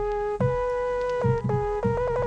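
Vintage Lead synth preset from Pigment playing a short melody, sustained bright tones that step between a few pitches over a low throbbing bed, moderately loud and alone.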